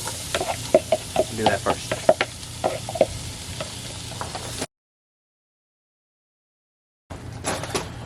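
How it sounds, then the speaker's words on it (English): Red and green peppers and garlic sizzle and crackle in a Dutch oven as they are stirred, close and busy with scraping strokes, a short spoken remark, then a gap of silence before the frying resumes. "going to put in the peppers, the red pepper, and the red pepper, green pepper, and the garlic"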